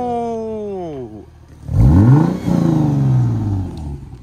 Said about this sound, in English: I'm about to hear what this car sounds like for the very first time with Cardin's new axle back